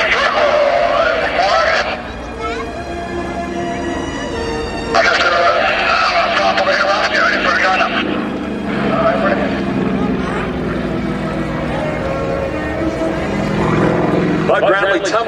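A Yak aerobatic airplane with a big Russian radial engine and propeller drones loudly and steadily at an airshow, its engine note rising and falling as it maneuvers.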